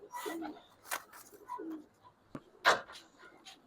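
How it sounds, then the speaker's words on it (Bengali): Old Bagha pigeons, including a silver female, coo in a loft, with a few soft, low coos and scattered flapping and handling noises, faint and close. "তো একটা বাঘা কবুতর একদম সিলভার"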